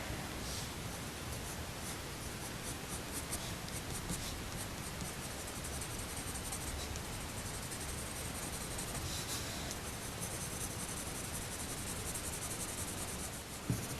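A single coloured pencil scratches steadily across paper in continuous, close, dense strokes that rustle on without pause for the whole stretch, with no voices.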